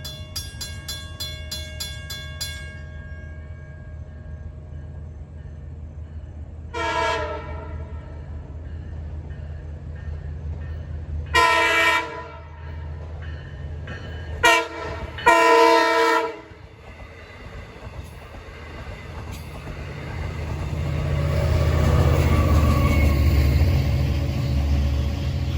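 A westbound Long Island Rail Road Montauk train, Speonk to Jamaica, nears a grade crossing as the crossing bell rings at first, then several loud horn blasts sound before the train rumbles past, building to a heavy close roar.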